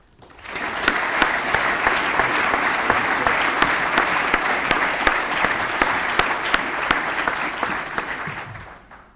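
Audience applause welcoming a speaker at a Cum Laude Society spring ceremony, dense steady clapping that swells in, holds for several seconds and fades at the end.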